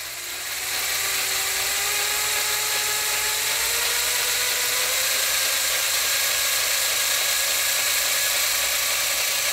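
A 12-volt motor spins a mechanical lightsaber mechanism as voltage is raised, a loud close whine that rises steadily in pitch over several seconds and holds at a high, continuous drone.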